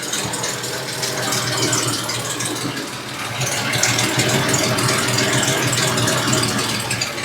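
A 1974 Volvo 164E engine idles up close with an exhaust leak. It gives a loud, steady rumble with a busy mechanical rattle and no talking.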